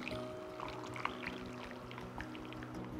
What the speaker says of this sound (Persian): روش رو آب جوش میریزم.